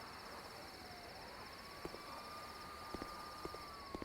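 A faint siren wails in the distance, its tone gliding slowly, over a steady hiss of night ambience with a few soft clicks.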